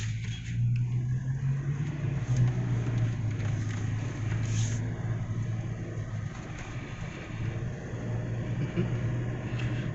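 Cars drive through Cebu City traffic during rush hour, with a steady low engine hum and road rumble throughout, heard from inside a moving vehicle, without talk.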